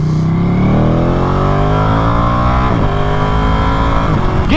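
A Ducati Panigale motorcycle engine revs loud and close, pitch climbing steadily through the gears with brief dips at each shift, a continuous roaring whine with no talking.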